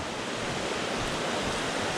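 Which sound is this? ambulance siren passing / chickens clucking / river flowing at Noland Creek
river flowing at Noland Creek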